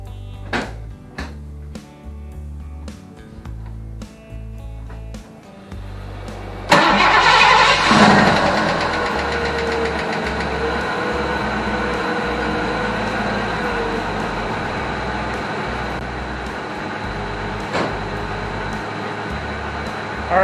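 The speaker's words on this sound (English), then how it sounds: "Now this is a cold start, and I do have one lifter that likes to bleed down just a little bit" A Ford 5.0 V8 cold-starts partway through, with one lifter that tends to bleed down. It catches abruptly, then settles into a steady, fairly loud idle with faint ticking over the drone and nobody speaking.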